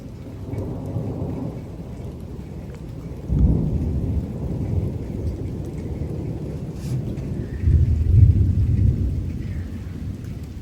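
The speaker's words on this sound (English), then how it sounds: "rain's picking back up" A severe thunderstorm with strong wind gusts: steady rain pours throughout while deep thunder rumbles roll in twice, loud and close, and the downpour swells again toward the end.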